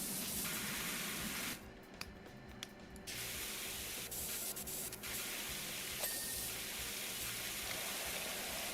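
Pressure washer in the PowerWash Simulator video game, spraying in a continuous loud hiss that dips briefly and then carries on steadily.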